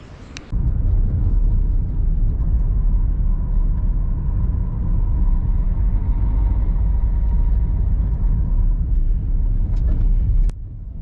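A car's steady, loud interior engine and road rumble as it drives around the north of Swinhope village in West Lindsey, with an even drone lasting about ten seconds.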